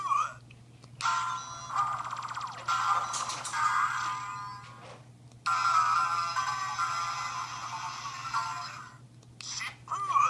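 Kamen Rider W Shippu Gaia Memory toy from the Sound Capsule Gaia Memory Vol. 7 set playing its electronic sound effects: several loud, close bursts of synthesized tones and effects with short pauses between them, over a steady low hum.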